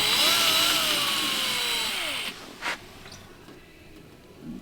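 A power drill bores holes through bondo filler on a Chevy C10 squarebody, whining loudly with a pitch that dips and shifts under load before cutting off, then a short clunk and quiet.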